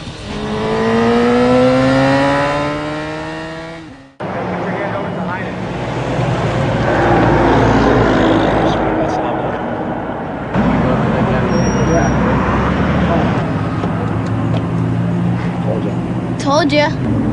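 A racing motorcycle ridden with uneven throttle, its engine rising and falling in pitch as it passes nearby, loud and close, with a voice talking over the engine noise.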